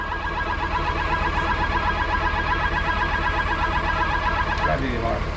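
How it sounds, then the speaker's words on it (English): A Honda Civic's alarm sounds as a loud, steady electronic tone that runs unbroken through the whole stretch, close by. "So we've determined it's an alarm,"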